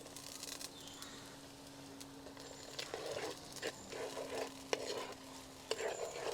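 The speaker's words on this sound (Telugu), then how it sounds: "నూనె కాగిందండి. ఇప్పుడు ఉల్లిపాయలు వేసుకుందాం." Onions frying in hot oil for a traditional prawn curry, a steady soft sizzle with intermittent scraping stirs and a few sharp clicks of a spoon against the pan, fairly quiet and close, no talking.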